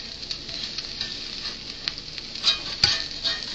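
A vegetable omelette sizzles in a pan with the heat switched off, a steady soft frying hiss throughout, with a few small pops and crackles near the end.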